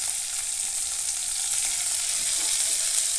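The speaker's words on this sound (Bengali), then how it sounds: "সব কিছু আরও একবার ভালো করে ভেজে নিচ্ছি।" Vegetables fry in a pan with chopped onion and nigella seeds, a close, steady sizzle with no voices over it.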